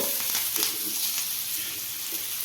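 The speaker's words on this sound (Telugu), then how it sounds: "చూడండి ఎంత బాగా కాలుతుందో ఆయిల్ ఎక్కువ పట్టదు" Fish shallow-frying in a small amount of oil sizzles with a steady, dense crackle throughout, close and fairly loud, with occasional brief pops and no talking.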